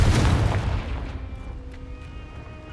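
A Confringo fire spell from the video game Hogwarts Legacy bursts in a loud, deep boom that rumbles and slowly fades over a couple of seconds, leaving faint ringing tones behind.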